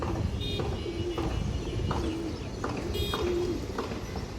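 Fancy pigeons cooing in a loft, a steady series of soft, low, rolling coos repeating every second or so over constant background hiss.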